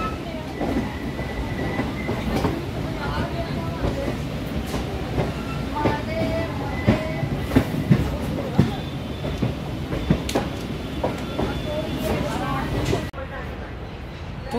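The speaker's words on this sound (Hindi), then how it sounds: "फाइनली हम लोग अपने फाइनल डेस्टिनेशन वाराणसी जंक्शन पहुंच चुके हैं एक घंटे देरी से शक्तिनगर वाराणसी इंटरसिटी एक्सप्रेस से" Shaktinagar–Varanasi Intercity Express pulling into Varanasi Junction: steady, loud rolling rumble of railcars with rhythmic clickety-clack wheel thumps and occasional squeals, continuous throughout and close by.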